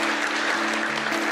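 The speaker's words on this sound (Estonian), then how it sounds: "Teeme ühe suur aplausi ja täname Jumalat ja täname neid ka." A church congregation applauds together, a steady, dense wash of many hands clapping at close range for just over a second, with no voices standing out.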